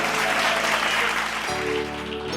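A Bible study audience claps steadily, a broad and fairly loud wash of applause that holds for a couple of seconds before thinning slightly, with a tonal hum underneath and no talking.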